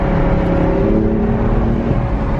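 A car with a 6-speed manual gearbox revs inside a tunnel, a loud, steady engine drone holding close for the whole stretch with no voices over it.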